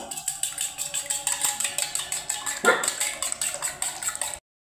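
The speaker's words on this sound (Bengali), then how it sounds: "একটু লবণ ডিমটা ভালো করে ফেটিয়ে নেব।" Fork or whisk rapidly beating an egg with a little salt in a bowl, a steady rhythmic clatter of quick metallic taps, close and crisp, with one louder knock near the end before it stops.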